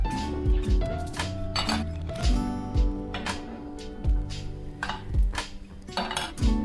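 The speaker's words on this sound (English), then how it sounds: "grab a frying pan" Metal frying pans clank and clink together several times, sharp ringing hits spaced irregularly as cookware is shuffled and set down nearby in a kitchen.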